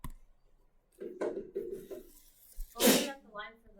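A single sharp sneeze bursts out in a classroom during a math review session, brief and fairly close, with quiet talking before it.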